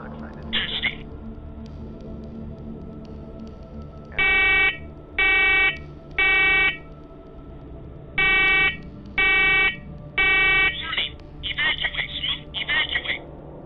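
A smoke alarm in a basement goes off in six loud, evenly spaced electronic beeping bursts, with other chirpy tonal sounds before and after over a low background hum.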